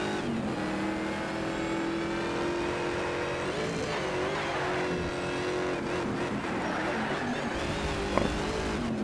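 Race cars in Need for Speed Shift 2 run a narrow track, a steady loud engine drone with rising and falling revs and cars passing close, lasting throughout.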